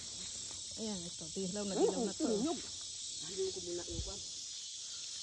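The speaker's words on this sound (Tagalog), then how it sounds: "Mga kuliglig namang ito eh." Crickets chirp in a steady, high, continuous trill around a countryside pear harvest, while people talk over them in the foreground.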